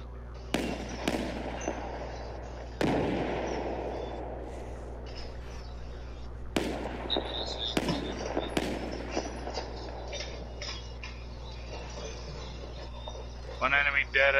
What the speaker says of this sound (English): I'm being shot at from somewhere.